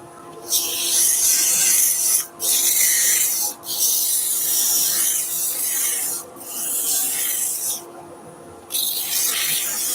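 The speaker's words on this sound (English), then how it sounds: "We'll do a little bit of sanding. We're going to start with 150 grit and work our way through." Wood, part of a pencil crayon epoxy resin vase, being sanded with 150 grit sandpaper while dust extraction runs: steady raspy rubbing strokes broken by several brief pauses, close and moderately loud over a constant hum.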